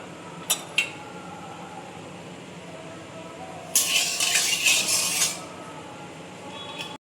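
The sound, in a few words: kadai (wok) being handled while putting in oil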